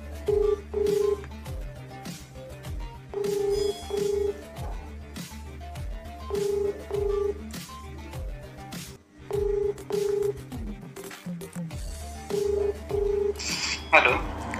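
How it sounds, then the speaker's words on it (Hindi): A phone call is placed to a customer care line, with a repeating tone pattern of short beeps in pairs recurring every few seconds like a ringback signal, over a faint background and a brief noisy burst near the end. "लाइव कॉल करूँगा"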